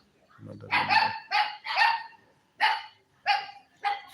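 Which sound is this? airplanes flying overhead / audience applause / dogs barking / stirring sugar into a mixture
dogs barking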